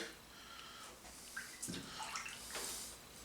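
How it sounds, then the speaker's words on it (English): Smoked salmon coated in a salt and brown sugar cure being rinsed by hand in a container of water, with soft splashing and sloshing, quiet and close. "we want to rinse this sugar and salt mixture off the fish"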